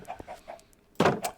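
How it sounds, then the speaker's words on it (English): Chickens clucking in the Minecraft video game, several soft short clucks close together, then a louder burst as a door or block sound joins in. "I took the water out of the chicken pen, so now the chickens are free to come in and out"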